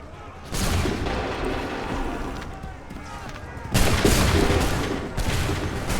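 Musket volleys in Assassin's Creed III Remastered, with a loud crackling burst of massed gunfire followed by a second sharper volley, shouted commands mixed in around the shots.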